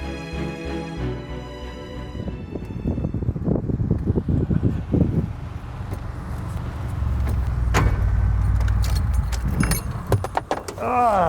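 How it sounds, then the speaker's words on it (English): Keys jingle and clatter near the start as part of a key ring comes loose inside a car, followed by rustling, wind and car cabin noise with people talking over it. "Part of my keys fell off."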